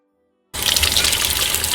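Warm tap water suddenly gushes from a faucet onto etched glass to rinse off vinyl, a loud steady splashing rush starting abruptly after a moment of silence.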